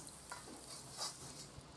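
A spoon scrapes and stirs through thick cucumber chutney with tempering in a pan, with a soft sizzle underneath, quiet and close.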